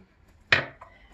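A single sharp knife chop against a cutting board, followed by a fainter second tap, in an otherwise quiet kitchen.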